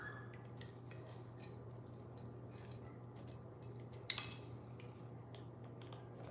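Soft metal clinks of a utensil stirring seasonings and pepper in a bowl over a steady low hum, with one sharper clatter midway, quiet and close.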